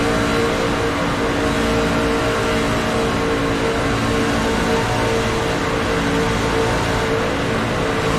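Racing truck engines in a video game race, heard as a constant, dense whir of motor and road noise that holds at an even level without a break.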